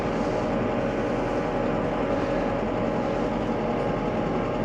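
Steady low engine drone of a new McCormick X6 415 tractor chugging at low revs while pulling a tandem cultivator, continuous and fairly loud with no talk over it.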